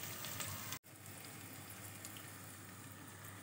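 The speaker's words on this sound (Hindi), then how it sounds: "प्याज हमारी ब्राउन हो रही है" Onions browning in a pan for spinach mutton curry give a steady, even sizzle throughout, with one brief dropout near the start.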